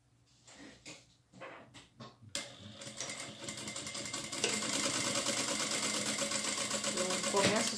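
A sewing machine runs steadily, stitching the closing seam of a fabric makeup bag, starting with a few short bursts and then settling into a continuous, fairly loud whir.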